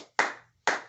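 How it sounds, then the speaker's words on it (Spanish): A church congregation claps twice in quick succession, two sharp, bright bursts of hand claps fading quickly, with a moment of quiet between them. "Vamos a dar un aplauso al Señor"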